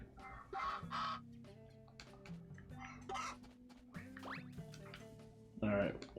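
Chickens cluck in a farm game, Story of Seasons: A Wonderful Life: several short bursts of clucking and squawks come and go over a soft background melody, with a person talking in between.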